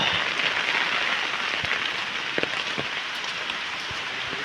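Steady rain falling in the Chiplun countryside, a soft, even hiss of drops on surfaces with a few scattered louder splashes, fairly faint and heard alone.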